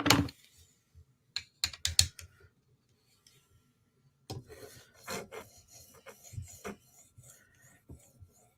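A knife blade scrapes across a 5000 grit sharpening stone, short raspy strokes in scattered bursts, then a denser run of close, gritty rubbing passes with brief gaps of quiet.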